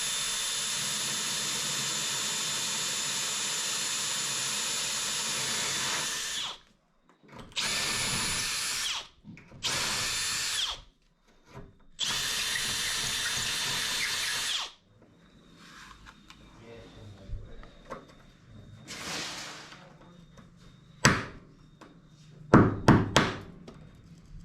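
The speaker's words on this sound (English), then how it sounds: "just drill a series of holes through here and then knock that piece out" A power drill whines loudly in several bursts through tile, with pauses between, then quieter knocks and clunks follow as the drilled piece is knocked out.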